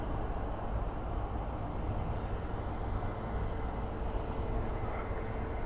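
A McDonnell Douglas MD-82 or MD-83 airliner at an airport, heard as a continuous distant engine rumble with a faint steady whine, fairly even in level throughout.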